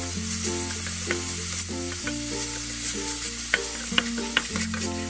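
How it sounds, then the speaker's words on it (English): Minced garlic and vegetables sautéed in a soup pot for chicken tortilla soup, with a steady sizzle and intermittent stirring scrapes up close over a tonal background hum, no voices. "And I'm just going to saute this for another 1 minute"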